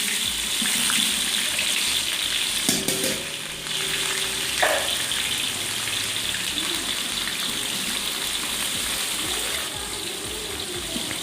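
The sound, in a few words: sliced onions frying in oil with mustard seeds, large pot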